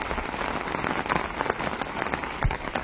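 Rain falls steadily during a storm, drumming on surfaces nearby with scattered sharper drips and splats in a dense, continuous patter and no voices.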